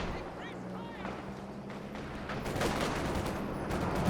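Machine gun fire rattles in Company of Heroes 2, Soviets against Germans in a 2v2 match. Faint bursts sit under commentary at first, then grow into a denser fusillade toward the end.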